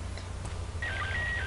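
SSTV image signal in PD-120 format from the International Space Station, received in Támesis, Antioquia: a steady electronic tone enters partway through and holds with slight pitch steps over a low, constant hum and static.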